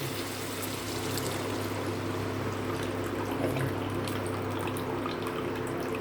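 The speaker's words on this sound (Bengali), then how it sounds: "এই জলটাই এখন ঝোলে দিয়ে দেব" Paneer soaking water, boiled with salt, poured into a simmering potato and paneer curry, giving a steady soft stream of liquid over faint kitchen noise with no talk.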